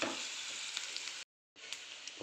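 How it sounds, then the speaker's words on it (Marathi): Chopped onion sizzling steadily in hot oil in a pan, a dense continuous frying hiss that drops out briefly and then resumes, close and fairly loud, with no talking. "लालसर होईपर्यंत कांदा छान आपल्याला परतून घ्यायचा आहे"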